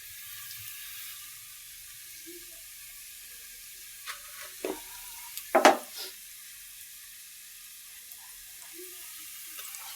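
Fried fish returned to a pan with pumpkin and stirred after salt goes in, giving a faint low sizzle with a few brief scraping and clattering stir sounds in the middle, close and quiet.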